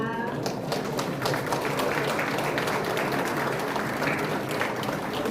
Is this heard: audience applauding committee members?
yes